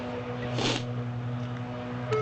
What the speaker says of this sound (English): I don't know if you can hear that through the tractor noise.